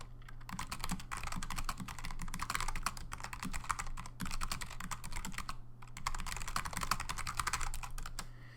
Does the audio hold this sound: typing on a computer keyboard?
yes